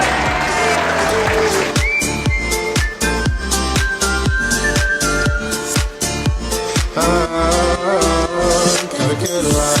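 An audience claps in steady unison, the sharp beats landing on a regular rhythm over loud music with sustained tones, continuing throughout.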